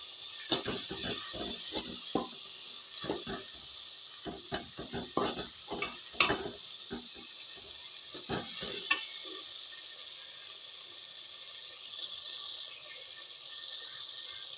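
A spoon clatters and scrapes as potato curry masala is stirred while it fries in oil in a pan, with irregular knocks over a constant sizzle for about nine seconds. The sizzle then carries on alone, quiet and steady.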